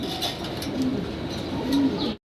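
A pair of red Komanian potter fancy pigeons, one male and one female, coo softly and steadily in a low, throaty murmur close by over a constant background hiss, cutting off briefly near the end.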